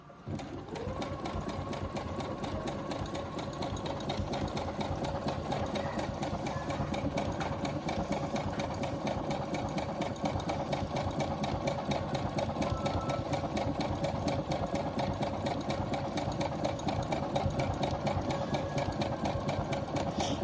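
A Brother sewing machine stitches double-needle embroidery in a steady, fast mechanical whir that runs close and continuous throughout, with no voices over it.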